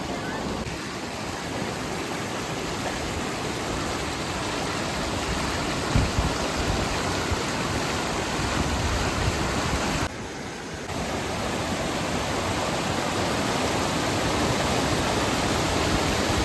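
A river stream near a pine forest in Idukki pours over rocks into a small waterfall, a loud continuous rushing roar that stays steady throughout, heard close without voices.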